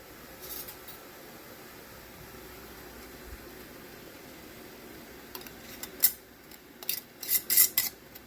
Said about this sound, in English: I'm going to put the lid and ring on this the same exact way